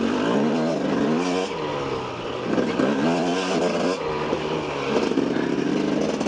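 A KTM 250 EXC enduro motorcycle engine drones continuously on a trail ride, its pitch rising and falling with throttle changes, loud and steady with no voices.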